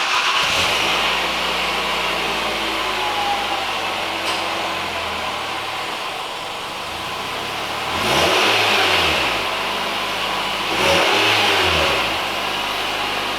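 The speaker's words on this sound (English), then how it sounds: "we're gonna be doing a cold start, just to show you guys what this sounds like" A 2020 Nissan Sentra SR with a custom fabricated exhaust starts cold and idles with a steady drone, then gives two short rising revs near the end, close and loud.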